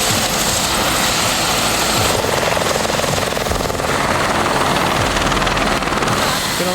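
A helicopter for a heli hike in New Zealand's South Island runs loud and close, its steady rotor and engine roar filling the scene without pause.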